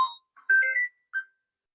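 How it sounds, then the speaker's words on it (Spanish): A phone ringtone plays a short melodic chime, a brief tone followed by a rising run of notes and one final note, close and alone in an otherwise quiet room. "Vamos a silenciar el teléfono para que no nos molesten."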